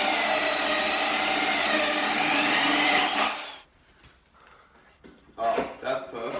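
A power drill whines steadily and loudly for a few seconds while drilling holes in galvanized metal, then stops, leaving faint clatter and a voice.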